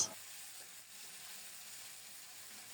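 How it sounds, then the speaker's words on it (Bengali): Ground paste of ginger, cumin and green chili frying in a pan for a fig curry, a soft, even hiss of sizzling oil held steady and fairly quiet throughout, with no voices. "এখন দিচ্ছি বাটা মশলাটা আদা জিরা কাঁচামরিচ"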